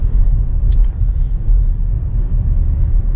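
Car driving slowly through a small town past a city building, a steady low engine and road rumble throughout, with a brief faint higher chirp early on.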